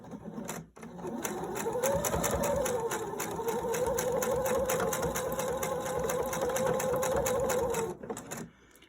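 Sewing machine stitching pleats in fabric, a close, steady rapid mechanical whir running for several seconds between short stops at the start and end.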